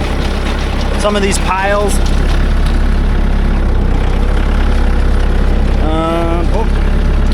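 Tractor engine running while dragging a field, a loud, constant low drone that holds steady throughout, with someone speaking briefly over it.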